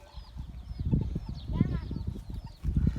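Chickens and other poultry cluck and call in a backyard coop, with birds chirping faintly higher up, while people talk nearby throughout.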